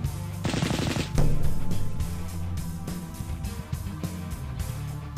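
Battle cannons in a Warhammer 40K strategy computer game fire a rapid burst of loud, close, rattling blasts, followed by heavy booming reports and a dense battlefield din.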